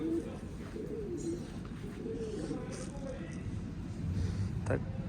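Soft, low pigeon coos murmur under steady background noise, with a louder burst of cooing near the end.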